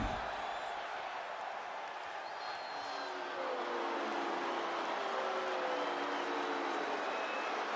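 Arena crowd noise from WWE 2K25 Raw universe mode, a steady dense roar of cheering and applause filling the whole stretch at constant loudness, with no talking over it.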